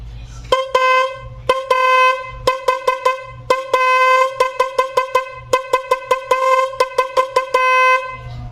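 A weak car horn, just cleaned of a rusty terminal by sanding, honks loudly and close in a run of repeated toots, some long and some short and clipped, with brief gaps between them.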